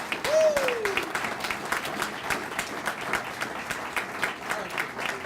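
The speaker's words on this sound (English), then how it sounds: "So please join me in a round of applause for all of these sponsors" A crowd applauds sponsors at the grand opening of a bike share program in Salt Lake City, a steady patter of many hands that rises early then settles, with a brief voice at the start.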